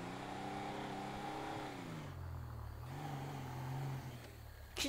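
Steady engine drone of a car in GTA V as it rolls slowly into a garage, idling and gently revving with a rising pitch near the end, close and continuous with no talk.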